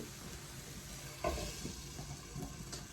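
Dried shrimp being roasted in a pan for a mushroom thoran, a steady low sizzle with light stirring scrapes and one brief clatter near the middle, no talking.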